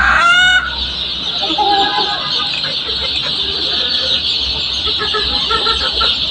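Egyptian Fayoumi chickens on a farm, a loud close crow opening the clip, then steady clucking and scattered calls from a flock over a constant high background hum.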